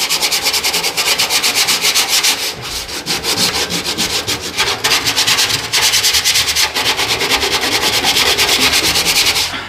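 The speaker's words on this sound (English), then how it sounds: "we're gonna sand this part down a little here" Close, loud hand sanding on a Mustang car body part, with rapid rhythmic rubbing strokes that continue without pause and no voices.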